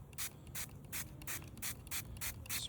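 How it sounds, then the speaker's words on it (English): A hand spray bottle spritzes sugar water onto bees during a hive inspection: eight or nine short, crisp hissing bursts in a quick, fairly even rhythm, close up over a low background hum. "spritzing these bees"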